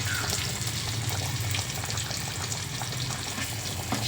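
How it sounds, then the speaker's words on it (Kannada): Chopped onion and a single green chili fry in hot tempering oil over a low flame, giving a soft, continuous close-up sizzle with faint crackles and no voices. "ಈಗ ಬನ್ನಿ ಒಗ್ಗರಣೆಲಿ ಬೇಯಿಸ್ಕೊಳ್ಳೋಣ"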